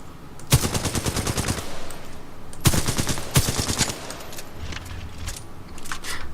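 Automatic gunfire from the Alternator, a twin-barrel SMG in the video game Titanfall 2, in two loud sustained bursts of rapid shots, with quieter game ambience between and after.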